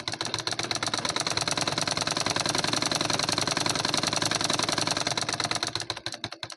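A sewing machine stitches a cotton blouse lining with rapid, evenly spaced mechanical pulses for about six seconds, then slows and stops, close and without talk.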